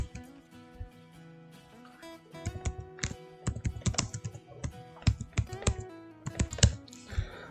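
Computer keyboard typing while entering VBA code in Excel: quiet, irregular clusters of close key clicks that start sparse and build into quicker bursts, with no one talking.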